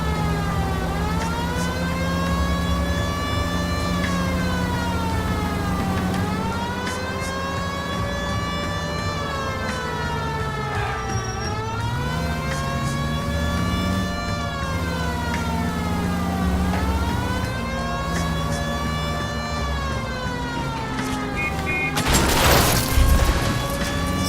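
A police car siren in the video game L.A. Noire wails in repeated rising and falling sweeps, loud and continuous, with a short burst of noise near the end and no talking.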